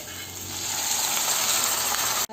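Water poured into a hot pan of egg masala sets off a loud, steady hiss and sizzle that builds over about two seconds and then cuts off abruptly.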